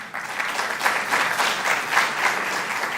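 Steady audience applause at a 2019 New York honors event, a dense wash of clapping hands that holds evenly and fairly loud for the full stretch, with no voices over it.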